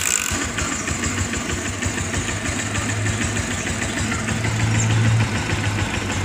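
A motorcycle engine idles steadily after a carburetor clean and tune-up, a continuous low mechanical hum with a faint regular pulse, close and unbroken throughout.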